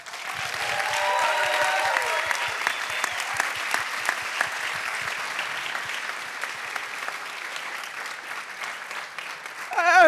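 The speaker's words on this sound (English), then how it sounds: "Please give another round of applause" Audience applause after a children's stage play: a steady wash of many hands clapping that slowly thins out, with a brief voice near the end.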